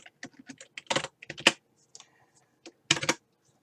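Close, clicky keystrokes on a computer keyboard while writing a Python import line, coming in quick irregular bursts with short pauses between, alone without talk.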